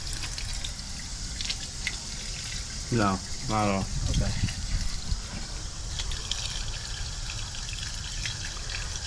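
Water runs into a clogged kitchen sink, a steady trickling and splashing stream under the room's hum, while people exchange a few brief words partway through.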